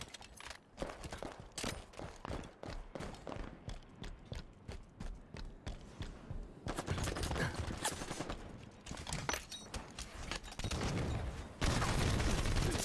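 SMG fire in Halo 5 multiplayer, loud rapid bursts of automatic shots mixed with clattering game effects, coming in short volleys and then longer sustained streams toward the end.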